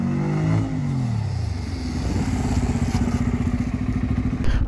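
A 2024 Bajaj Pulsar N250 ridden on a road in road mode: the engine drops from a revving whine, then settles into a steady, close, throbbing putter that grows slightly louder toward the end, with no talking.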